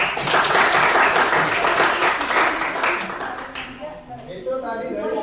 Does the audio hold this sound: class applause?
yes